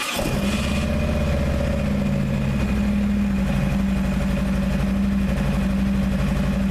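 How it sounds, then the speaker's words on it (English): Harley-Davidson motorcycle engine starts and settles into a steady, loud, close idle, a continuous deep throbbing rumble with no talk. "we're gonna start the bike up"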